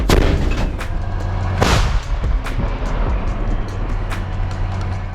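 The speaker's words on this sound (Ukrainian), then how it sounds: "Постріл!" A loud gunshot blast at the start, then a second sharp report about a second and a half later, over a steady low engine rumble, on the front line near Chasiv Yar.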